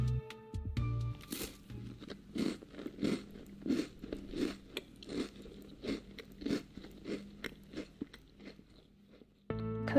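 Loud, close crunching of someone chewing cookies in a video game, a rhythmic series of a dozen or so sharp bites and crunches spaced about half a second apart, with no voices.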